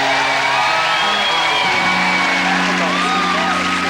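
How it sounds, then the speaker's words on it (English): Studio audience at a 1996 comedy gameshow pilot cheers, whoops and claps loudly and continuously, a dense crowd roar filling the whole stretch without a break. "Have some applause for Mrs."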